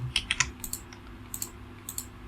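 A computer keyboard typed in short bursts of a few quick clicks each during a Ctrl C copy, crisp and close, with no talking.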